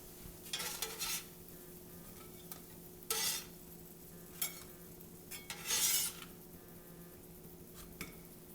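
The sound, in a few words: sorghum chapati cooking in a pan with minimal oil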